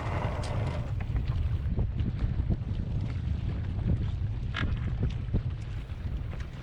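A sailboat slips its mooring and heads off under sail from Baltimore Bay, steady wind buffeting the microphone over low water rushing along the hull, close and continuous with no talking.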